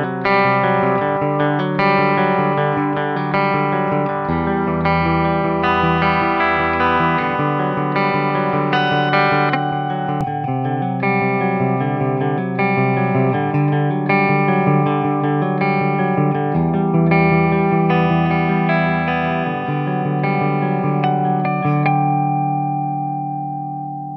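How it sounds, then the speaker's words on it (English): Electric guitar on the clean channel of a Peavey Valveking II VK100 tube head, played with an LTD Iron Cross guitar, ringing chords and arpeggios with sustained notes and a slight shimmer, loud and continuous before fading out at the end. "we got a good, healthy, clean tone from the Valveking amp"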